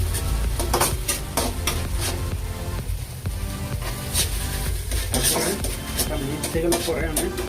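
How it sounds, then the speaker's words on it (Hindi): Masala paste for a fish curry is mixed in a pan, heard as repeated clattering and scraping with sizzling underneath, loud and continuous, while talk and background sound run throughout. "मिक्स करी"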